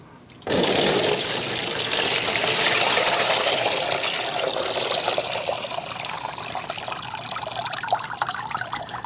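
Sanitizing water gushes and drains out of an Italian ice machine barrel, starting abruptly with a loud rushing flow that stays strong and gradually eases into a steady trickling pour.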